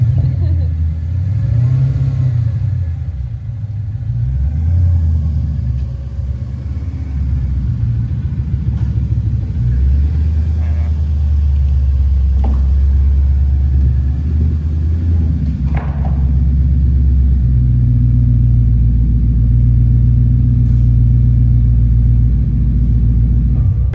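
A car fitted with a Corsa exhaust rumbles loudly and deeply throughout, its steady low drone swelling slightly at a few points like light revving and staying close and constant, with people talking faintly beneath it.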